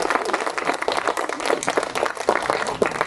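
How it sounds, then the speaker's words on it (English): A dense, fairly loud burst of applause from a crowd gathered outdoors for a guided bicycle ride through Erskineville and Tempe, many hands clapping continuously throughout. "Give her a big clap."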